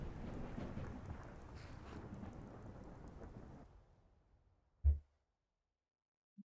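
Video game rain shower, a steady hiss of falling rain that fades away, followed by a single short, deep rumble of thunder, then near silence.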